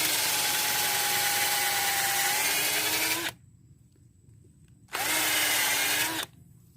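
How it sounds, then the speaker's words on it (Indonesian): A power drill whines loudly and steadily for about three seconds boring a hole in agarwood, stops briefly, then runs again for a shorter burst close by. "kita bantu dengan menggunakan bor"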